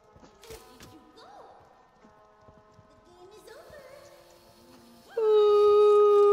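A dog-caterpillar creature in Poppy Playtime Chapter 2 gives rising, wavering howls, faint and intermittent at first, then a loud sustained wail at the end. A voice speaks in the background.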